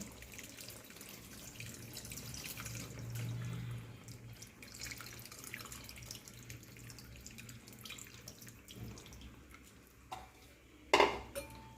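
Soaked tamarind water goes into a pot of dried-fish curry and is stirred, giving quiet watery splashing and soft scraping, then a sharp metallic clank near the end.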